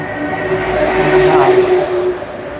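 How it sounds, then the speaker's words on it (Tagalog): Loud truck passing along a street, a rumbling swell of engine and road noise that builds and fades over a few seconds, close by. "Maingay na ano. Truck."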